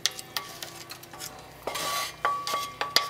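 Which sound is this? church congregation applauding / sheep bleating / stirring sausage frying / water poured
stirring sausage frying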